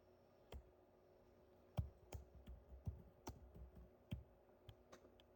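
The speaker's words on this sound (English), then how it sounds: "Forgive my typing." Computer keyboard typing while a Power BI dashboard is being built, sparse key clicks at an uneven pace over a low steady hum, fairly faint and with no talking.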